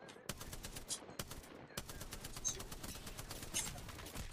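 Video game gunfire in rapid bursts of sharp, repeated shots, loud and close, firing almost continuously with brief pauses between volleys.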